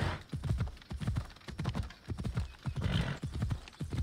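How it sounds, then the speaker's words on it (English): Horse hooves galloping at a steady fast rhythm in Assassin's Creed Odyssey, close and clear, with a brief whinny mixed in and no talk. "Pretty ass horse with useless wings."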